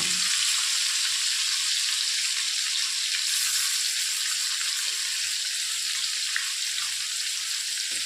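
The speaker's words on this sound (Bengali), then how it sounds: "চিকেনটাকে আমি ভালো করে তেলে ভেজে নেব।" Chicken frying in oil for a simple Bengali chicken dish gives a steady, dense sizzle and crackle that runs unbroken, close and fairly loud, with no talking over it.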